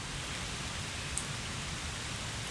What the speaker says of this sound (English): And it's still raining on me